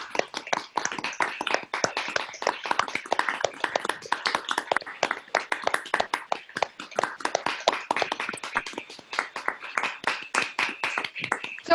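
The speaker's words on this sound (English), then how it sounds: "Let's hear a round of applause for everybody who composed and performed today." A group of summer-camp participants on a video call applauding after a recital, a dense, uneven patter of claps from several people at once, compressed and sustained for about twelve seconds.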